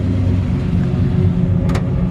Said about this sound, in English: Amazing sounding engine.